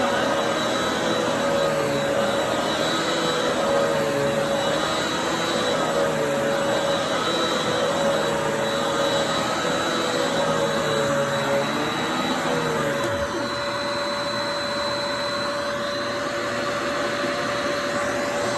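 A Riccar upright vacuum cleaner motor drones steadily and loudly throughout, with a constant high whine and a slight shift in tone near the end.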